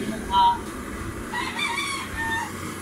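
A rooster crows in the distance, faint and drawn out, over a low background hum with no talking.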